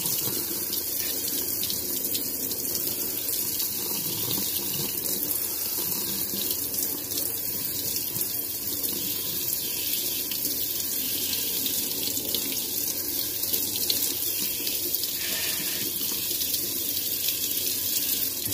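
A kitchen tap runs steadily for about eighteen seconds, rinsing dish soap off a tumbler, a continuous close hiss of flowing and splashing water with no talking.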